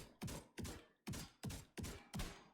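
Shotgun with a Hunter's Fury build firing rapidly in a video game, six loud booming blasts in quick, even succession, each with a short decaying tail.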